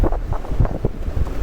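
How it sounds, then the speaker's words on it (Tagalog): Gusty coastal wind blows hard into the microphone at a rocky seaside geopark in Taiwan, giving a loud, low, rumbling buffet that rises and falls throughout. "Mahangin."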